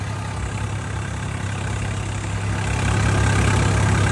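A tractor engine idles steadily, its low, even rumble close by and alone, growing slightly louder toward the end.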